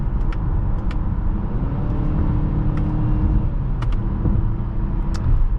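Cabin sound of a 2022 Mazda CX-5 2.5 Turbo accelerating while shifting in manual mode, a loud steady engine and road rumble with rising engine tones and brief changes at the gearshifts, plus small clicks.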